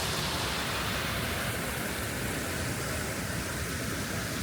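Water rushes steadily through a filter serving trout hatchery raceways, a dense, even roar that holds at the same level from start to finish with no voices.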